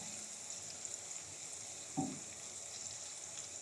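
The white part of green onion fries in a pan for hot garlic chicken, a faint, soft sizzle with one brief scrape or stir near the middle.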